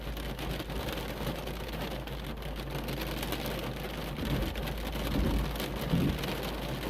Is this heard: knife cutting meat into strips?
no